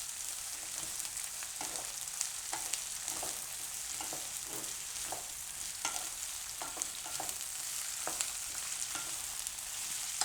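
Sliced onion and capsicum sizzle in hot oil in a pan for a Gujarati shaak, with a steady close hiss broken by repeated scraping stirs of a spatula, no voices.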